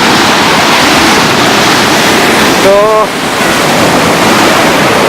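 Someshwar waterfall roaring, heard from right at its edge: a loud, dense, continuous rush with wind buffeting the microphone and a brief spoken word in the middle.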